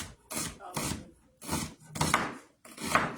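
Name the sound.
knife chopping onions on a cutting board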